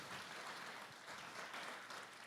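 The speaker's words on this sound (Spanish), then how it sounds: "Démosle un gran aplauso a este" An audience applauds the photographer Holguer López at a tribute event, a faint, steady wash of many hands clapping heard from a distance.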